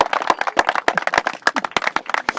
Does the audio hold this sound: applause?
yes